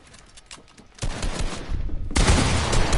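Video game gunfire building from light scattered shots into loud, dense rapid volleys that get heavier toward the end, with no clear speech over it.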